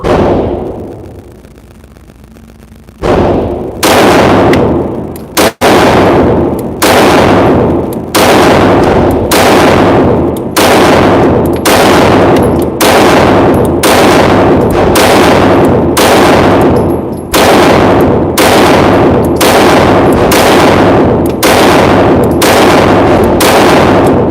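Firearms fire round after round at an indoor-style shooting range in Texas, sharp, very loud close shots in a steady rhythm about once a second after a brief quiet start, each with a short echoing decay.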